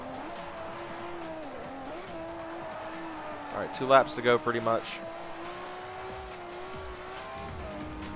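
A race car with a modified exhaust in the video game Forza Motorsport 4 holds a steady, droning engine note. A brief burst of tire squeal cuts in midway as someone talks over the top.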